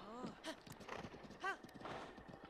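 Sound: horse hooves galloping in video game Breath of the Wild

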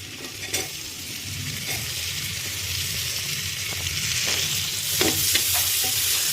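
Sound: frying chopped onion in a pan

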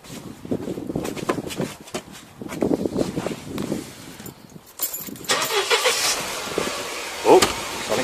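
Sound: car engine starting and idling

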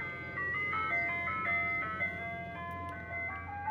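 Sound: ice cream truck jingle outside

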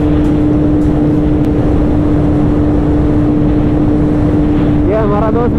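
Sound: Honda CBR 650 motorcycle riding

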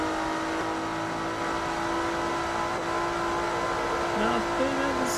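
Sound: race car engine overtaking, Forza Motorsport 3 video game

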